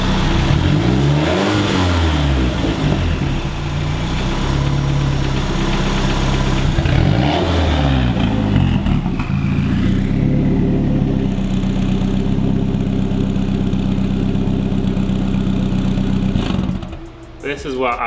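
A failing Mitsubishi 4G63 engine rumbles loud and close, revving up twice in rising and falling sweeps before settling into a steady idle. A faint mechanical noise lies under the idle, and a voice speaks over the engine.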